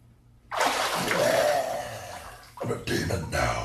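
Water gushes from a tap into a bathtub, a loud steady rush that breaks off briefly and then resumes in choppy splashing bursts, with no speech.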